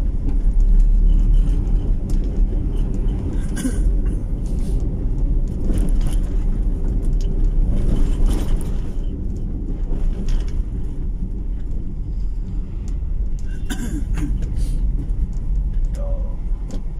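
Jeepney and car traffic on a busy Iloilo City street, heard as a loud continuous engine rumble and road noise with wind buffeting the microphone, passing vehicles swelling and fading, and a faint voice now and then.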